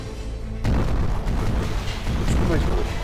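Mortar cannon fire in the mobile game Assassin's Creed Pirates on iPhone: a sudden loud boom that rolls into a sustained rumbling barrage, with someone talking over it.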